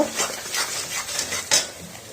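Chicken masala with green chilli and Kashmiri chilli powder being stir-fried in a pan, with rhythmic scraping and stirring strokes over a soft sizzle, and a sharper metallic clink near the end.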